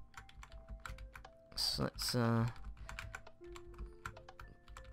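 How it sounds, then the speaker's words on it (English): A loud computer keyboard clatters with rapid, close clicking keystrokes throughout, briefly interrupted when someone speaks. "my keyboard doesn't, play up during this. My keyboard is bare loud, like, you can hear it"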